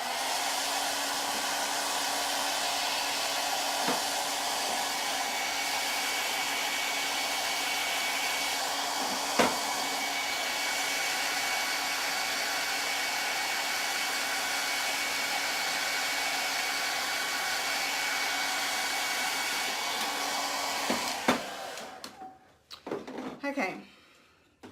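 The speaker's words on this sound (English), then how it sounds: "I'm getting my handy dandy hairdryer out" A handheld hair dryer blows on coats of paint in a craft project, giving a loud, steady whooshing hum that runs unbroken for about twenty seconds and then cuts off, followed by a few clicks and handling noises.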